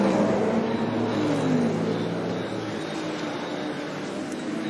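Ferrari race car lifting off and coasting into the Tosa hairpin at Imola during an endurance race, a steady low engine drone with a slowly falling pitch, fairly distant and constant throughout.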